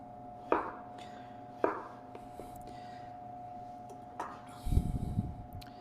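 A kitchen knife cuts vegetable pieces into slices for brunoise, a few sharp separate chops on a cutting board spaced about a second apart, then a brief scraping clatter near the end, with a faint steady hum underneath.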